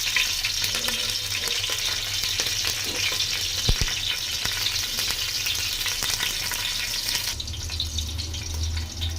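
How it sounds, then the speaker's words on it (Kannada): Chilies deep-fry in hot oil with a loud, steady crackling sizzle that goes on throughout. A couple of brief knocks occur midway, and a low hum enters near the end. "ಸೊ ಚಿಲ್ಲಿ ಎಣ್ಣೆಯಲ್ಲಿ ಡೀಪ್ ಫ್ರೈ ಆದರೆ ಒಳ್ಳೆ ಟೇಸ್ಟ್ ಬರುತ್ತೆ"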